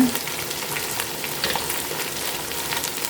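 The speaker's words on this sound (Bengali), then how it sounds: "এখন আবার একটু ভেজে নেব।" Ground spices frying with beef in a pan for a pumpkin and beef curry: a steady, close, loud sizzle with faint stirring scrapes throughout.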